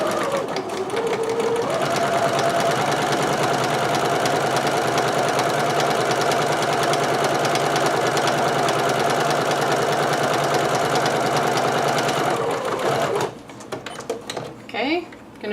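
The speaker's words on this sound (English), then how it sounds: "I'm just going to sew very close to the seam line with a regular stitch" A sewing machine runs continuously for about thirteen seconds, stitching a seam allowance to a dress's back lining, a loud, fast, even mechanical whir close by that stops abruptly, followed by light handling noises.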